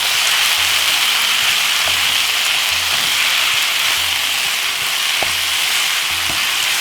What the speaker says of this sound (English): Stir fry veggie rice